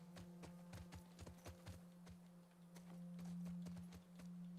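Rhythmic clip-clop of horse hooves walking at a steady pace over a low constant hum, moderately quiet, in the video game The Last of Us Part II.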